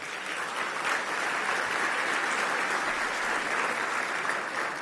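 A luncheon crowd at the US Conference of Mayors opening plenary applauds the sponsors. The clapping is steady and dense and holds at an even level from start to finish.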